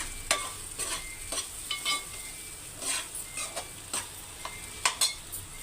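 Eggs frying in a pan are flipped and moved with a utensil, giving soft scattered scrapes and taps over a faint, quiet sizzle, no voices.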